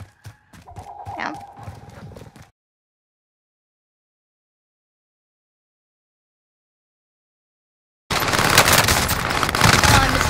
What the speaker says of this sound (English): This is the PPSH.